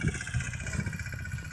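A tractor engine runs in a field with a steady, low, throbbing drone and a slight pulsing rhythm, moderately close and continuous, with no talk over it.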